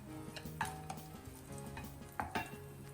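A spoon stirs ginger and green chilies in a pan of hot oil, tempering for sabudana khichdi: quiet sizzling under several distinct utensil clinks and scrapes against the pan, close but faint, no voices.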